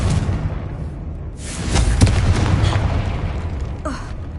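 The Confringo fire spell explodes in Hogwarts Legacy with a sudden, fairly loud booming burst. A rumbling tail fades over the next couple of seconds, over a low background hum.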